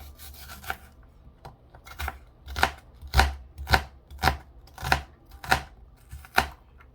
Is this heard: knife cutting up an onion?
yes